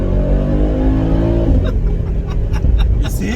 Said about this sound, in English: you go on the road and with that AMG 63 sound.